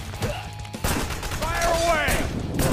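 Rapid bursts of gunfire in the VR shooter game Wanted Dead VR, sharp repeated shots fired in quick succession with a voice speaking briefly over them.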